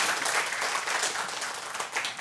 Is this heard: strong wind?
no